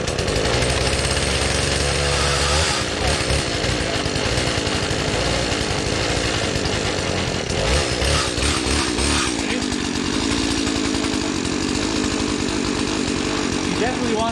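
Husqvarna 120 Mark II chainsaw running loud and steady up close, its two-stroke engine revving with a slightly rough, untuned idle and shifting pitch throughout, with speech over it.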